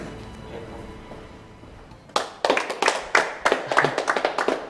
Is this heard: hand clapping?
yes